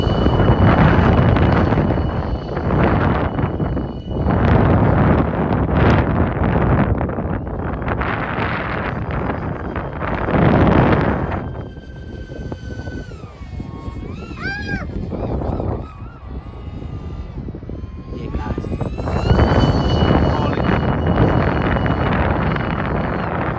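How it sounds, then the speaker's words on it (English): Strong wind buffets an outdoor microphone at a flying site in loud, uneven gusts that rise and fall for the whole stretch, with a faint whine of an aircraft motor partway through. "it's too windy for me"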